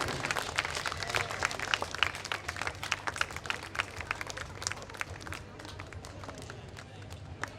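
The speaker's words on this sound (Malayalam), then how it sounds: "നല്ല കൈയടി നല്ല പ്രോത്സാഹനം കൊടുക്കണം" An audience claps at a temple trust function, giving sustained, dense applause that sounds fairly distant and slowly thins out, with voices faintly mixed in.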